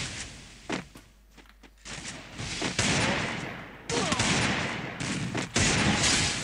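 Rapid bursts of Desert Eagle gunfire in the Free Fire battle royale game, loud and close, with dense clustered shots separated by brief pauses and no talking.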